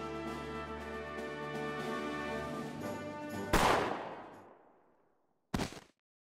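A single gunshot in the video game Valkyria Revolution cracks out loud over a sustained musical tone, followed by a long decaying tail and a second sharp report a couple of seconds later.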